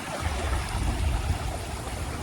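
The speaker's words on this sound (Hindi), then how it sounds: "ये जनाब देखिएगा कितनी शिद्दत से पानी यहाँ से बह रहा है।" The Ravi river in flood season at the Pakistan–India border, a steady, dense rush of water with a low rumble underneath, continuous and fairly loud, with no voices.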